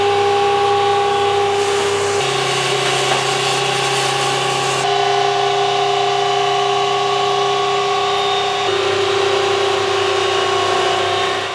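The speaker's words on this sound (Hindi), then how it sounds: "अब सेम प्रोसेस से इस धनिया को भी हम अपने ग्राइंडर में डालेंगे और इसका पाउडर बनाएंगे।" An electric spice grinder powders coriander seeds with a loud, steady motor whine and whirr, its pitch shifting a few times as the seeds break down, running continuously with no talk.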